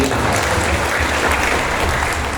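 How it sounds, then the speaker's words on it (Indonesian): Loud, sustained applause from an audience at a Ministry of Religious Affairs gathering in Semarang Regency fills the whole moment, many hands clapping densely and evenly without pause. "kita beri tepuk tangan sekali lagi"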